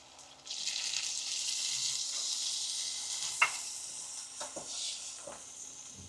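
Tomato gravy poured into a hot pan for a Patan-style peanut bhajiya curry hisses into a steady, bright sizzle, with a few sharp spatters and stirring clinks breaking through near the end.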